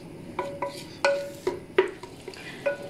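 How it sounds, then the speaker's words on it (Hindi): Onion, garlic and spices fry in oil for mutton paya, with a soft sizzle under repeated sharp clinks and scrapes of a spoon stirring against the pan. "इसमें अब मैं तमाम मसालों को अच्छी तरह भून लूंगी"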